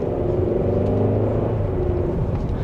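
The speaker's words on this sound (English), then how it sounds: "that was a quick acceleration" A 2026 Kia K5 GT pulls hard under acceleration, its engine a steady, loud rumbling drone with layered tones that carry through the whole stretch without any talk.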